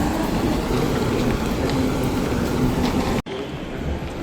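An automated airport metro train running inside Doha airport, a steady rolling rumble and hum from on board that cuts off abruptly near the end.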